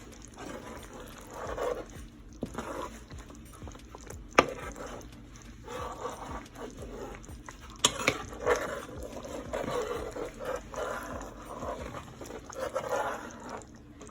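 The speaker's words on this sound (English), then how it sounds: "The gravy is thickening up. I'm just kind of stirring it around." A spoon works through thickening chicken skin gravy in a pan, giving irregular soft scrapes and wet, sticky stirring noises with occasional sharper knocks, steady and close throughout.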